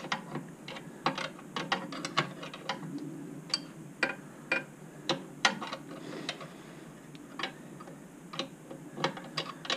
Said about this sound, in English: hold the head while I tighten the stiff nut on the other side